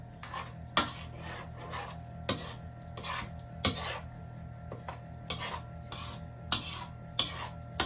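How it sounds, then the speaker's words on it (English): A cheese filling with oregano, pepper and oil being mixed in a bowl, heard as repeated soft scraping and knocking strokes of a utensil at an irregular rhythm, close and quiet. "So I want you guys to mix this well, right?"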